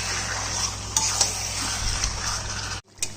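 Chicken pieces with softened tomato sizzle in a pan for chicken kali as a utensil stirs and scrapes against the metal, a steady close frying hiss with a brief pause near the end.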